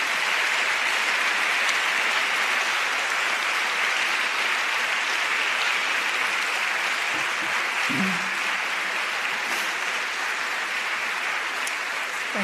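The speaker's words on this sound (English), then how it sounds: "You've already learned when an applause is definitely needed." Audience applause at a college opening ceremony in Bruges, a steady dense wash of clapping from a large crowd that holds evenly for the whole stretch, with a faint voice briefly surfacing partway through.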